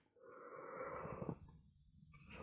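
A single drawn-out human yawn, a breathy voiced sound swelling for about a second and then trailing off into quiet breath, heard alone and close.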